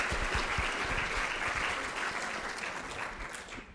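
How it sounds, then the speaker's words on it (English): An audience at a rural arts and culture summit applauds after a panel conversation, with a dense round of clapping that tapers slightly toward the end. "Let's give them one more round of applause."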